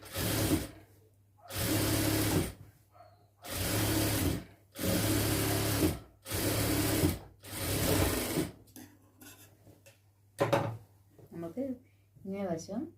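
Sewing machine stitching the folded edge of a churidar lining in several bursts of steady whirring, each a second or two long with short pauses between, then a few lighter clicks and handling noises near the end.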